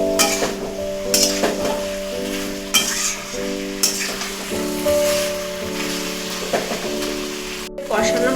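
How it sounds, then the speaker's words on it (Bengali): Potato, cauliflower and peas being sautéed with spices in a pan, with a steady sizzle broken by repeated scraping and clinking strokes of a spoon against the pan, over a constant tonal background. "ভালো করে কষিয়ে নেব মশলার সাথে।"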